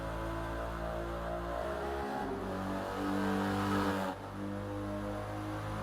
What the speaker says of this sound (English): This has got the 2-liter twin turbo 1G GTE.